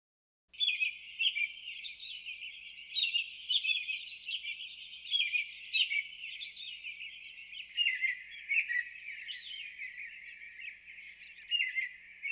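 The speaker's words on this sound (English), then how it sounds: "In and among the hundreds of sounds are several just kind of like fun sounds. I see one here called Bird Tweet," Bird Tweet patch (number 124) on a Strich SEP-150 88-key digital keyboard, a steady run of synthetic chirping bird calls repeating in phrases for about twelve seconds, clear and alone with no voice.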